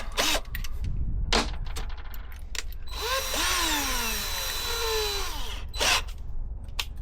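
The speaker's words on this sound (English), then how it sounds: "So I just drill the top" A power drill drilling into an aluminium boat deck whines in bursts, its pitch rising and falling as it bites, with sharp clicks and a steady low hum beneath.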